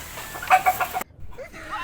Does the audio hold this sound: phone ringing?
no